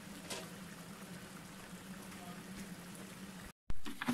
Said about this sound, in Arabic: البنات هي دابا داك المطيشه اللي درت ها هي غلات دابا.